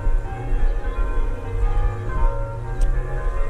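Bells ringing in the distance, their tones layered and sustained over a low steady background hum.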